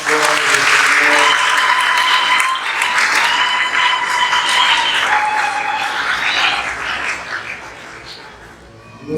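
Congregation applauding at a Sunday Mass in church, loud sustained clapping that fills the space with some cheering voices mixed in, fading slightly toward the end.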